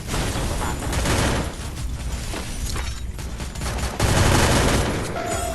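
Dense, sustained gunfire in a video game fills the clip with rapid overlapping shots and booming bursts, loud and close, forming a continuous chaotic roar with brief shifts in intensity.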